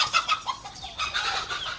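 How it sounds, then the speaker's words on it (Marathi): Chickens cluck on a poultry farm in several short, close calls that come in two bursts, with no voices. "खूप सारे कोंबड्या आहेत खूप म्हणजे खूपच सारे"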